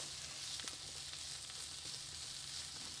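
Potatoes fry in a hot pan with a steady, even sizzle throughout, close by and moderately quiet, with faint stirring scrapes underneath.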